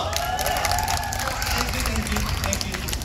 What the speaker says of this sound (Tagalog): Thank you sa mga pumalakpak.